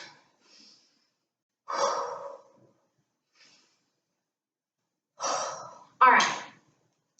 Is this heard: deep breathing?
yes